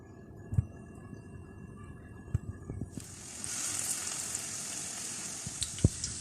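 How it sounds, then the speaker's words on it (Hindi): Qeema cutlets coated in egg and breadcrumbs fry gently over low heat. A soft sizzle swells into a steady, brighter hiss partway through, with a few sharp pops and clicks of the pan, close and fairly quiet. "हल्की आंच पर इनको फ्राई करेंगे"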